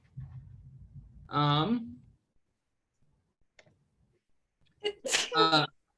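A sharp sneeze bursts out after low murmuring, followed moments later by a second, louder sneeze, both close and clear.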